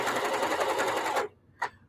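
A sewing machine stitches old denim jeans into hot pads, a steady close mechanical whir with a fast rhythmic pulse for over a second, then stopping abruptly, followed by a brief short burst of running.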